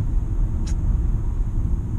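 A car cruising on Interstate 5 at night near Irvine, a steady low road rumble and engine drone heard from inside the cabin, with one brief faint chirp partway through.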